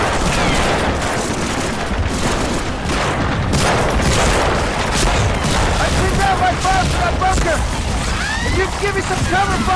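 Dense covering gunfire in a World War II beach-landing game: overlapping rifle and machine-gun bursts with booms and explosions, continuous and loud, while voices shout over the battle.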